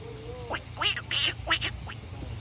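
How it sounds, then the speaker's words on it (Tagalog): A duck quacks several times in quick succession, loud and nearby, over a low background hum. "Ay, manok? Bibi pala yan."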